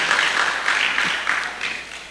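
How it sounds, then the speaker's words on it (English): A gala audience applauds in a hall, dense clapping at a steady level that begins to fade toward the end, heard alone without talk. "Could we give them a round of applause again?"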